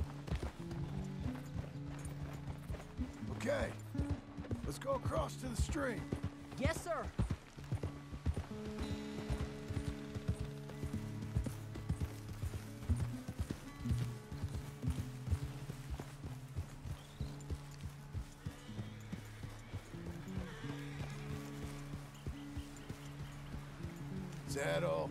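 Horse hooves clip-clop at a steady walking pace in the video game Red Dead Redemption 2, a moderate rhythmic patter running under continuous game music and ambient sound, with voices talking over parts of it.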